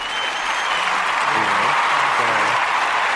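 Crowd applause runs as a steady dense wash of clapping, with a voice speaking faintly underneath midway through.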